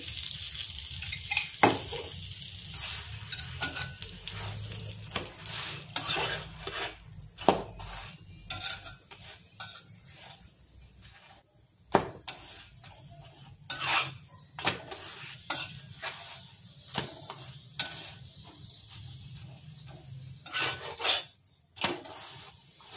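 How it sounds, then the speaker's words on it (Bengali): Masala paratha sizzles as it fries in white oil in a pan, a steady crackling hiss broken by frequent sharp scraping and clinking strokes of a spatula. "আমি তেল দিয়েই ভাজছি, সাদা তেল দিয়ে।"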